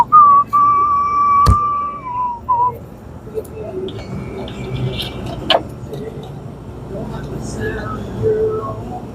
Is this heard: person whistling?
yes